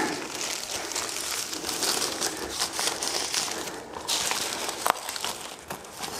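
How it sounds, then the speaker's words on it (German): Two adhesive strips are peeled away from tongue-and-groove dry screed boards: a steady run of close crinkling, rustling and tearing noise with small crackles, lasting several seconds without speech. "dann ziehen wir hier einfach einfach die zwei Klebebänder ab, drücken hier einmal an."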